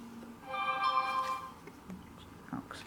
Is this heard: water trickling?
no